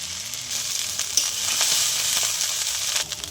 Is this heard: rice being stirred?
yes